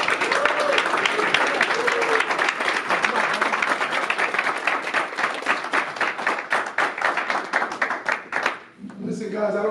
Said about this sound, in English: Let's clap it up for everybody in this room today.